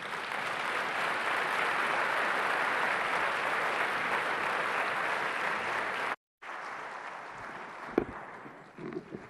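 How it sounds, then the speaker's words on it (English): A large audience at the Transform Africa closing session applauds as the President of Niger takes the stage, a dense, steady roar of clapping that cuts off abruptly, then returns briefly with scattered claps and faint murmuring. "give a proper round of applause as he takes the stage"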